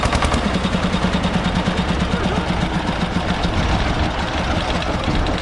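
A harvester engine in a Karnataka village, just started, idles with a loud, steady, close low chugging throb that softens slightly toward the end.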